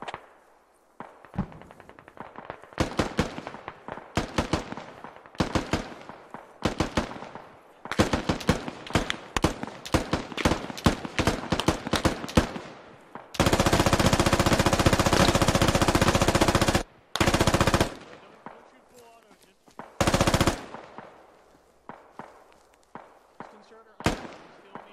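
Rapid gunfire from the military shooter game Squad: a long run of sharp automatic bursts and single shots, then a loud sustained volley of heavy fire with a few more bursts after it, close and dominant.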